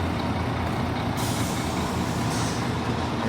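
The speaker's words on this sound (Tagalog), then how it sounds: "ito yung mga dump truck na nakaparada rito" Dump trucks at a concrete batching plant rumble loudly and continuously nearby, with a sharp air-brake hiss breaking in partway through.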